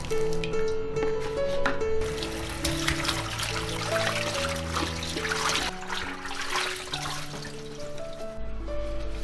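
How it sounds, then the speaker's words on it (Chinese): Blanched lotus leaves are rinsed under steadily running water, a continuous close splashing trickle heard beneath background music. "烫软了就捞出来清洗一下"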